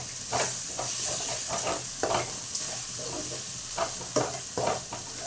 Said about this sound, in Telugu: బాగా కలుపుదాం.